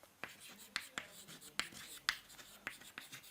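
Chalk or marker writing equations on a board during a hyperbola maths lecture, with a series of sharp taps and scratchy strokes at irregular intervals, quiet, with faint room noise.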